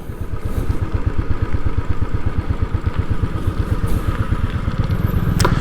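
A motorcycle idles steadily with a regular thumping beat outside a Royal Enfield service garage, close and continuous, with light mechanical clatter over the low throb.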